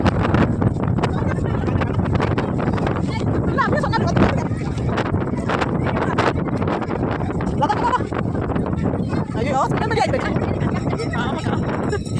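Strong, gusty wind from a small storm batters a beach at Nagapattinam, loud, roaring and buffeting the microphone in uneven bursts, while people talk underneath.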